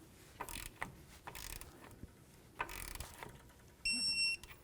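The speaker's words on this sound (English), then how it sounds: "Put the outer tie rod end into the knuckle, start the nut, snug it up." A ratchet snugs the nut on an outer tie rod end fitted into the steering knuckle of a 1998-2002 Honda Accord, with quiet bursts of clicking in several short runs and a brief electronic beep near the end.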